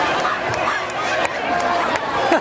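Crowd at a 2014 chihuahua race in Chandler cheering and chattering continuously, a busy outdoor roar of voices with occasional shouts rising above it.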